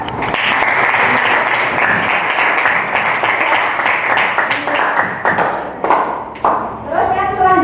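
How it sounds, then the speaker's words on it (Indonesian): Classmates in a classroom clap for a student, a dense, loud round of applause lasting several seconds before tapering into scattered claps and a voice. "tepuk tangan untuk Mbak"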